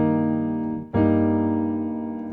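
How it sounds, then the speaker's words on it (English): A sustained chord inversion rings out on an instrument, a rich harmonic tone that briefly cuts off and is struck again just under a second in, then sustains and slowly decays, with no talking. "a particular inversion just sounds like this"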